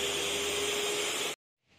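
An electric mixer kneads dough with a steady whirring drone and a faint high whine, then cuts off abruptly, leaving near silence with a soft rustle.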